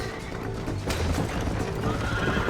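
Horses in the Western video game Red Dead Redemption give a loud, close whinny, with hoofbeats and rumbling movement continuing underneath.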